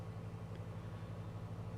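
Simulated aircraft piston engine idling in Microsoft Flight Simulator 2020, a steady low droning hum with even pulsing, moderately quiet and continuous with no talk.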